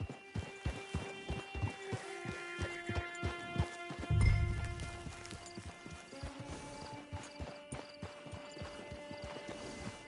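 A horse's hooves clip-clop in steady, evenly spaced beats in a Red Dead Redemption game scene, close and clear over a low ambient hum, with a brief whinny or louder thump partway through.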